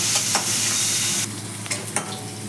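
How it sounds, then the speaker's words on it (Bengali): Prawns fry in hot oil in a pan, giving a loud, bright, continuous sizzle close up, with brief scraping stirs and the hiss easing slightly partway through. "এখন চিংড়ি মাছটা তেলের মধ্যে দিয়ে দিয়েছি, এবার চিংড়ি মাছটা একটু ভেজে নেব।"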